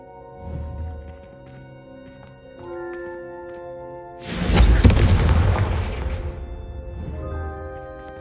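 Confringo fire spell blasts in Hogwarts Legacy, a loud booming burst that swells and rolls out over a couple of seconds, set against a sustained musical backdrop with quieter thuds before it.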